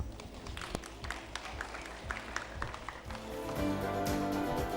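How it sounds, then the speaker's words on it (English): Student audience applauding at a school student-council election rally, faint scattered claps that swell into fuller, louder clapping toward the end. "A round of applause, please."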